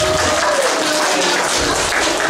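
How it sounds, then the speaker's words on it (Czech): Dense, even clapping fills the room as a children's costume party crowd applauds a child dressed as a cat, loud and continuous throughout without talk. "Tak, kočičce můžeme zatleskat."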